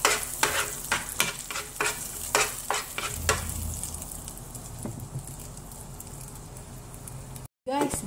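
Eggplant browning in a frying pan, with a run of sharp scraping stirs and clatter from a utensil at first, then steady soft sizzling, brief pause near the end.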